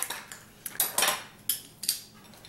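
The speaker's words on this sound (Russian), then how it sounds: "Теперь выбиваем яйца." Two eggs are cracked into a bowl for pumpkin fritters. A quick series of sharp, close taps and clinks against the bowl comes in uneven bursts, each one fading fast, with no voices.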